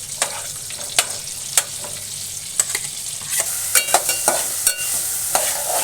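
Onion and capsicum fry in butter and oil for pav bhaji. A spatula scrapes and clacks against the pan in irregular strokes over a constant bright sizzle.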